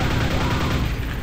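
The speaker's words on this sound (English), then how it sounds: "New weapon? Nail gun." A nail gun fires in the video game Quake, a loud, dense, rapid stream of shots that blur into a continuous rattling burst.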